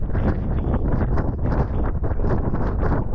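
Strong bitter wind on a hilltop near a village, buffeting the microphone in a loud, continuous roar with gusty pulses throughout.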